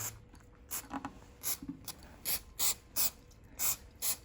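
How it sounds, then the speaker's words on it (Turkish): Short, quiet hisses from an aerosol spray can come in a quick, uneven series of puffs, about eight or nine bursts with brief gaps between them, during a boat hull repair. "Şuradan başlayarak spreyimizi sıkmaya"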